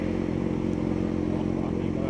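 A motorcycle engine runs at low speed during a slow-riding lesson while the clutch is eased to the friction point. It gives a steady, close, throbbing rumble with no pauses.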